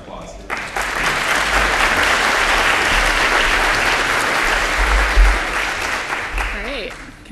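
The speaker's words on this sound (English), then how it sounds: "Let's give her a round of applause" A conference audience gives a sustained round of applause for a speaker being introduced at a feature flag management talk, dense and steady clapping filling the room for several seconds, with faint talk underneath.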